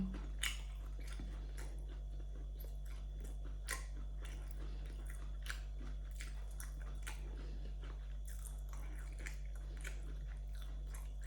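Someone chews bread and bacon up close, with repeated crisp crunches and wet bites at an irregular pace over a steady low hum.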